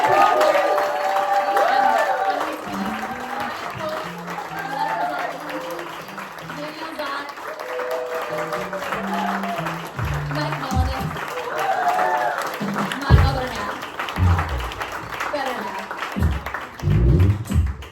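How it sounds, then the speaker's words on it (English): Applause and crowd noise from an audience greet the band at a songwriter show, with keys and instruments sounding and voices mixed in over the steady clapping. "So let's give a round of applause."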